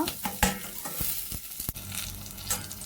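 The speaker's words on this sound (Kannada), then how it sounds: "ಸ್ವಲ್ಪ ಕೆಂಪಾಗುವವರೆಗೆ ಫ್ರೈ ಮಾಡಿಕೊಳ್ಳುವ" Kane fish curry base frying in hot oil in a pan, a steady close sizzle broken by sharp scraping stirs and the odd clink of a spoon against metal.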